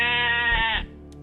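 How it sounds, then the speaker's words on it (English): A sheep gives one drawn-out, wavering bleat, loud and close, that cuts off sharply after under a second, followed by near silence. "It's a sheep."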